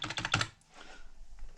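Quick bursts of keystrokes on a USB keyboard plugged into a Nintendo Switch Lite open with a fast clattering run, then fade to a quiet room tone with a few faint clicks.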